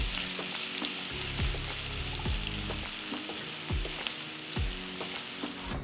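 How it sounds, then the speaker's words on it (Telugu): Long-sliced onions fry in oil toward golden brown, giving a dense, even sizzle close by, with repeated scraping strokes of a spoon in the pan and no talk. "ఇందులో పొడవుగా తరిగిన 3 ఉల్లిపాయలు వేసి అవి గోల్డెన్ బ్రౌన్ రంగులోకి మారేంత వరకు వేయించాలి."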